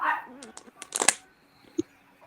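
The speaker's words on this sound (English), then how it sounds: "My dogs are going crazy." Several dogs bark and yip in short, sharp bursts from a nearby room, loud and uneven, with a person talking over them.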